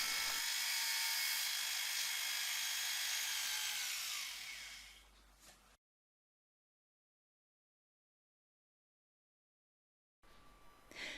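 A polishing wheel spins against copper jewellery, a steady high-pitched whir that fades out, then silence before a faint return of the motor.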